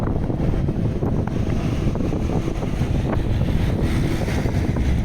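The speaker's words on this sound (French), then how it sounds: "Ah oui, il y a beaucoup de vent là." Strong wind roars steadily into the microphone, a constant low buffeting rumble with no pauses, close and loud throughout.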